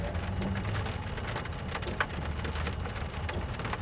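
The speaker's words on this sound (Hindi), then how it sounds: "बारिश हो रही है, देख लीजिए।" Steady rain falls continuously in a dense, even hiss with a low rumble beneath, loud and close throughout, with one brief sharper spatter near the middle and no voices.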